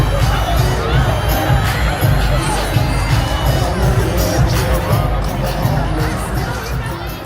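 A dense concert crowd at a Mardi Gras weekend ball in New Orleans cheers and shouts loudly and continuously as the performers come out, a roaring wash of voices close by.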